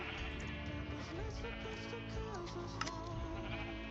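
Sheep in a video game bleat in a few wavering calls over a low steady hum, fairly quiet and close, with no speech.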